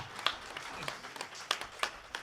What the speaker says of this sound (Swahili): Ninawashukuru pia watoto na wenyewe, tuwapigie makofi